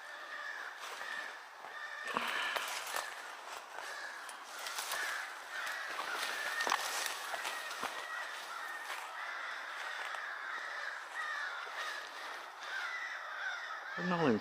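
A flock of crows caws over and over in the woods, a dense chorus of harsh calls, some near and some farther off, continuing for the whole stretch with someone talking in between.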